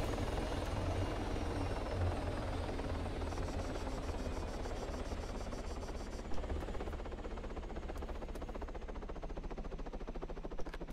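A helicopter in the video game Altis Life lifts off with a loud, continuous rotor thump and engine roar that fills the whole stretch without pause.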